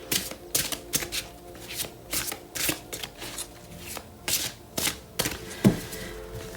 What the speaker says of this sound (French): on va couper l'oracle des licornes et sortir une carte